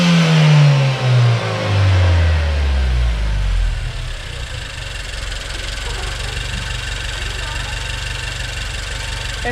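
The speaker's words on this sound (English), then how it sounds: "You don't have to rev it that high this time." Nissan Juke Nismo RS engine fitted with a GFB blow-off valve revs up loudly and then settles back toward idle, with people talking over the engine.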